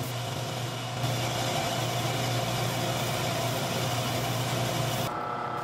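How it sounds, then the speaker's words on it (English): A large pneumatic drum sander with 100 grit shapes wood, a loud, steady whirring hum with a broad hiss of sanding that holds constant, then the upper hiss drops off near the end. "Then started shaping first with 100 grit on the large Pneumatic Drum Sander"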